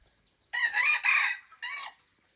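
A red jungle fowl crows nearby, a loud drawn-out call in several bursts, then a short final note, with quiet background between.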